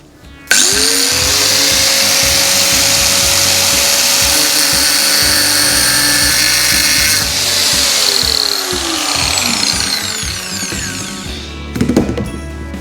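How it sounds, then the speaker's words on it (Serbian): An angle grinder cuts into a part on a BMW R60/7 motorcycle engine, close to the engine block. Its loud, steady whine lasts about eleven seconds and then winds down near the end. "Nisam ga namerno prosekao do kraja da mi ne bi poletela brusilica, odnosno kamen brusilice i oštetio ovde nešto na bloku."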